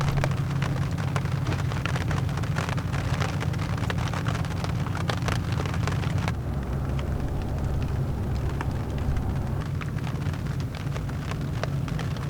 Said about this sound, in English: this is the first bit of rain we've seen in 7 months.